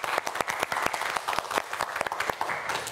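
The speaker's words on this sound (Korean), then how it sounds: "우리 박성윤 학생에게도 큰 박수 부탁드립니다" An audience at a televised student quiz show claps for a contestant, a close burst of crisp individual handclaps with a crowd filling in behind.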